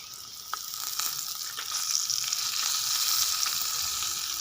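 Spices and onion frying together in a pan as stuffing for potol, with turmeric, chilli powder and ginger-garlic-green chilli paste, crackling in a steady close sizzle with a few small pops and scrapes, no talking.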